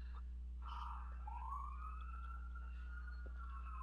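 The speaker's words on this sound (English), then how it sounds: "we're gonna turn off the siren because we lost the suspect" A police car siren wails in the video game GTA 5 Online, a single rising and falling tone held over a steady low engine hum, moderately quiet and with no talking.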